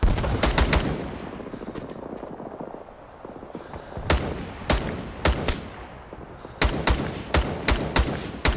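Rising Storm 2 gunfire in a firefight at the Laos ruins: short, sharp bursts and single loud rifle and machine-gun shots crack in clusters at the start and again in rapid repeated volleys toward the end, with quieter battle noise between.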